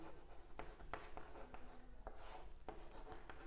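Chalk or marker scratches across a classroom board while a right-triangle trigonometry problem is worked out, in quick short strokes with small taps, close and fairly quiet.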